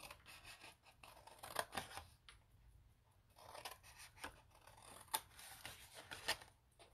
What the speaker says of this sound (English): Flip it around, cut right up the score lines on both ends.